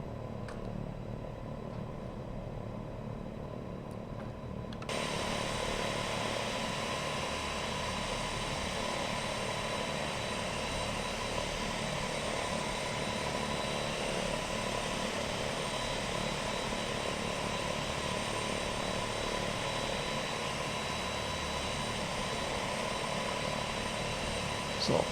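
Simulated turboprop engines of an EMB-110 Bandeirante in X-Plane 12 drone steadily with a tonal whine over a broad rumble, quieter at first and then stepping up abruptly in level, continuous to the end.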